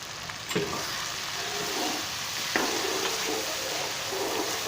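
Cumin seeds crackle and sizzle in hot oil for a dal tadka. The sizzle holds steady and close, with a few sharper pops and crackles breaking through.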